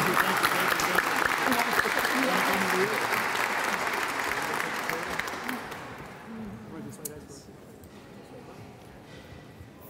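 Audience applause at a Hispanic Heritage Month closing ceremony for a volunteer, a sustained loud round of clapping that gradually fades over several seconds.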